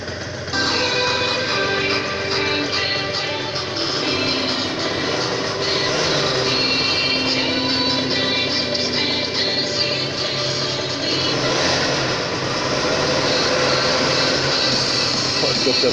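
A scooter engine drones steadily and loudly at idle after a cold start, with voices talking faintly underneath.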